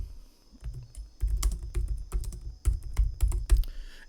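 Keys clatter on a computer keyboard in short bursts of close, crisp clicks after a brief quiet start, with no voice.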